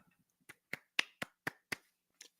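About seven slow, sparse hand claps from what sounds like a single person imitate polite applause at a wrestling show, quiet and evenly spaced with short gaps between them.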